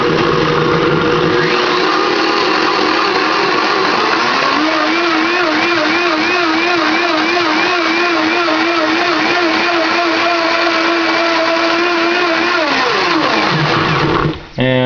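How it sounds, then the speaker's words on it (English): A blender whirs steadily through raw cream of cucumber soup with olive oil added, a loud motor hum with a wavering, churning pitch for around twelve seconds before it spins down and stops. "Blend again."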